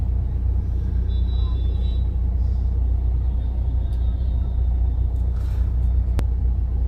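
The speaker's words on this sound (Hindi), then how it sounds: "ये ट्रैफिक कब खुलेगा" Vehicles idle and creep in a road traffic jam in India, a constant low engine rumble close by with faint passing tones and a brief sharp hiss like an air brake near the end.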